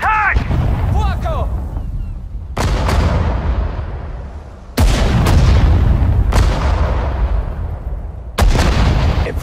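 Gunfire and heavy booms in the Sudden Strike 4 desert war campaign, several loud blasts with long rumbling decays, close and dominant, plus a short whistling sound at the start.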